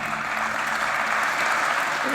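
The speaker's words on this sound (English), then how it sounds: "I would love to see all the people that's clapping for him right now." A crowd at a political speech breaks into sustained applause, a thick, even wash of clapping that holds at full strength for a couple of seconds.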